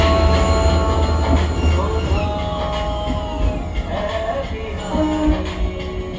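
Historic rail bus rolling slowly between Mathura and Vrindavan, a loud, close rumble of engine and wheels with squealing and rattling throughout, and a voice talking under the noise.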